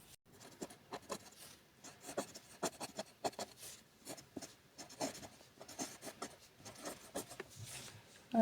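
Pen or pencil writing on paper during a math lesson, close, rapid irregular scratchy strokes with brief pauses, no talking.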